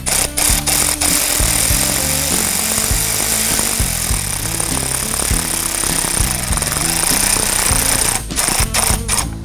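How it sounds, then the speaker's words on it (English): A power tool rattles in rapid, pulsing bursts while tightening a light bar bracket on a 2024 Ford Ranger Raptor, loud and close, with brief pauses between runs. "If you're using a power tool like this for the install, just be sure that you do not over tighten."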